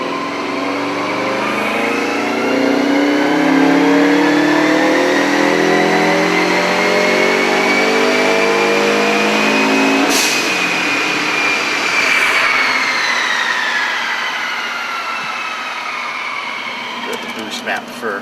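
A turbocharged 2.5-litre Subaru Legacy 2.5GT being tuned: a steady, loud engine drone climbs in pitch as it revs, peaks, then falls back and settles, continuous for most of the run with occasional clicks near the end.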